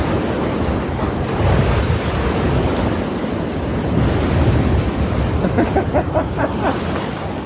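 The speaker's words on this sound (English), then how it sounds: "The power of the ocean, you know." Rough ocean waves crash and surge continuously on the shore at Morant Point, St Thomas, Jamaica, a loud steady roar of surf with gusts of wind buffeting the microphone.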